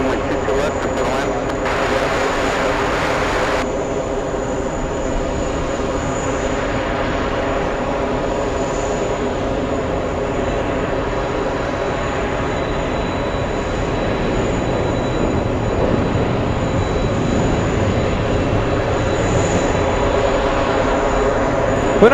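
A jet airliner rumbles steadily on its landing approach at JFK airport, a continuous, fairly loud roar heard from outside with no pauses.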